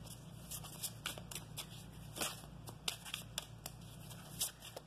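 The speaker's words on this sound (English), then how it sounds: "One more shuffle." Oracle cards being shuffled by hand, a series of quick papery riffles and flicks of varying loudness, close and fairly quiet, with no talking.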